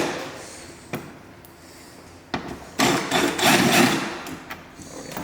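Work on the last two bolts of a McLaren 720s: sparse metallic knocks and clicks, then a louder stretch of ratcheting and rattling of tools and parts, close by in a quiet garage, with no talk.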